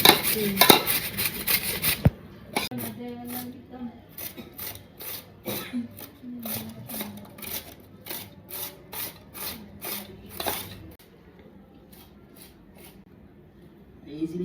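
A knife finely chops green mango on a board for a mashed mango bharta, with quick, steady strokes at close range and a voice speaking briefly at the start.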